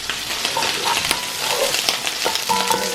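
Onions sauteing in hot oil in a pan, a steady close sizzle with occasional stirring clinks and scrapes throughout.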